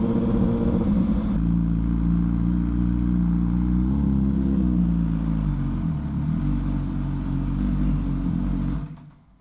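An MV Agusta Superveloce 1000 motorcycle engine screams near its maximum RPM, a loud sustained high-revving wail up close that shifts pitch slightly, then cuts off abruptly at the end.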